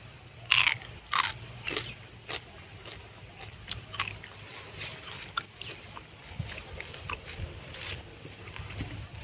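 Crunchy crab shell being bitten and chewed close up outdoors by a pond, with a few sharp crunches early on followed by softer, irregular chewing against low background noise.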